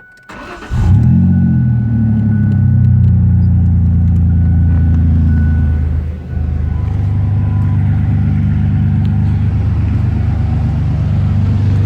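A 1998 Ford Ranger with the 3.0 engine runs with its muffler removed, starting up and settling into a loud, raw, rumbling idle that dips briefly midway before resuming steadily.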